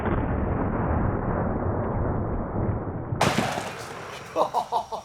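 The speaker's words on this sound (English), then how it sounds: "Next up is the 500 Smith & Wesson Magnum with the 440 grain hard cast." 500 Smith & Wesson Magnum revolver firing 440 grain hard cast rounds outdoors: a loud, sharp report lands after steady wind-like noise, followed by a few quick echoing thumps as it fades.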